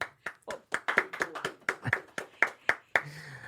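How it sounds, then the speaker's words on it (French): A small group claps by hand, about a dozen uneven, close claps over a few seconds, sparse rather than full applause. "Moi, je dis ça s'applaudit."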